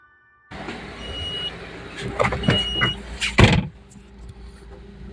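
A car that had sat unused for a long time, its battery freshly recharged, starts up abruptly and settles into a steady low idle, with a few sharp clunks and brief beeping tones over the close engine hum.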